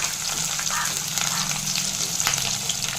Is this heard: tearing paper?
no